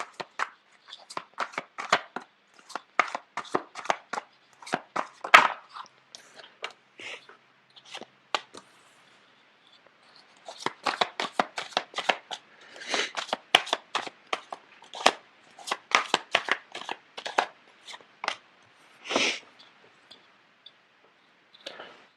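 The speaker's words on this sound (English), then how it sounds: "The cards are not shuffling too well." Tarot cards being shuffled by hand, a steady run of soft papery riffles and flicks in two long bursts with a short lull between, close and fairly quiet, with no talking.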